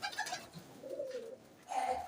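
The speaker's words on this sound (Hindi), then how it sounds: "ये कुछ ऊपर बैठे हुए हैं कबूतर, ये जाली के ऊपर।" Pigeons of mixed Indian breeds such as Saharanpuri, Lakhe, Ambarsari and Teddy coo in a one-room loft, some perched on top of the wire mesh, with a few soft murmuring calls close by and a brief pause between them.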